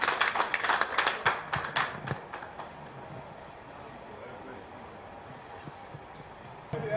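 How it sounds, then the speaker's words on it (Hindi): An audience at a hall event applauds to welcome a speaker with a short burst of clapping that lasts about two seconds, then dies away into a quiet room. "एक बार जोरदार तालियों से इनका स्वागत किया जाए।"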